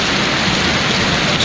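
Cold morning rain falling steadily in India, a dense close hiss of drops on surfaces with no pauses over the brief stretch.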